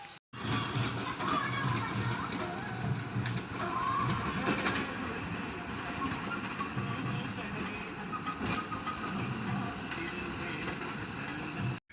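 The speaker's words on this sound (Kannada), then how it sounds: "ಟ್ಯಾಗಟ್ರು ಹೊಡಿತಾ ಇದೆ." A tractor ploughs a field at a tomato nursery in Gundlupet, a steady, faint mechanical rumble and rattle that runs continuously throughout.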